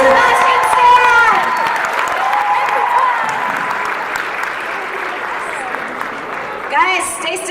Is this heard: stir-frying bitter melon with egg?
no